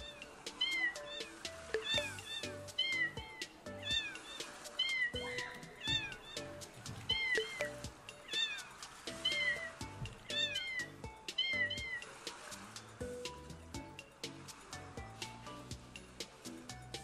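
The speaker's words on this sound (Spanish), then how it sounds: "Mira, un gatito." Repeated cat meows in the video game Neko Odyssey, a steady run of short calls at a moderate level over a rhythmic backdrop of footsteps and game sounds.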